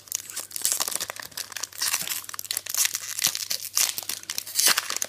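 Foil wrapper of a Pokémon XY7 booster pack being torn and crinkled open by hand, a continuous close crackling rustle with sharp tearing bursts and no talking.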